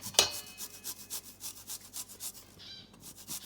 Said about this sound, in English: I'm gonna grate 3 cloves of garlic.